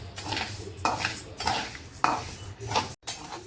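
Pearl millet being stirred as it roasts in a pan, with a spoon scraping and clinking against the metal in irregular strokes, close and fairly loud, and no talking.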